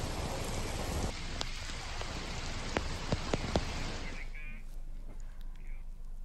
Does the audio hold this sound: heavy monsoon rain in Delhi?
yes